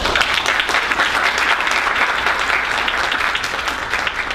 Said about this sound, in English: Let's give each one of them a welcome applause.